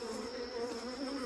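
Honey bees buzz steadily around an open hive during an inspection, a close, continuous droning hum with no talk over it.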